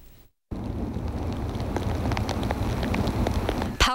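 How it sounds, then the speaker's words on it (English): Powerful wind and heavy rain pounding a stormy beach, a loud continuous roar of rain and gusts with low rumbling, after a brief gap near the start. "Powerful wind, heavy rain,"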